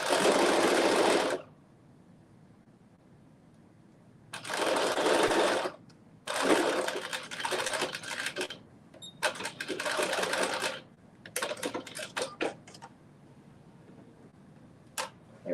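A sewing machine stitching the top of a maxi dress, running in several loud close bursts of rapid whirring separated by pauses, followed by lighter clicks and taps, with no talk.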